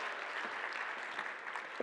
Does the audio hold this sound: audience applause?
yes